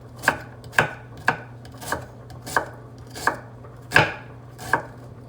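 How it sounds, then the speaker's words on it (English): A knife slices food into thin half moons on a cutting board, eight crisp, evenly spaced chops close up over a low steady hum, with no talk. "cut it into half moons, thin, as thin as you can go"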